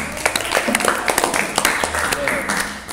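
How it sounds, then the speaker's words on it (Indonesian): Classroom students clapping together, a busy patter of hands with some sharper individual claps standing out, while voices chatter underneath throughout. "tepuk tangan untuk kalian semuanya."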